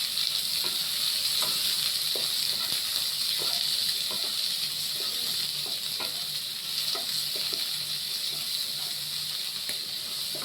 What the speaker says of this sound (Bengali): চিংড়িগুলো একটু ভেজে নেবো